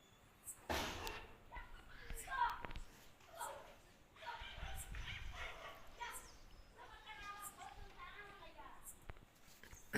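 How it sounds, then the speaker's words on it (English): Street dog in an Indian village barking in several sharp bursts at moderate distance, mixed with outdoor background noise and people talking. "This is our village dog, and it is a street dog only."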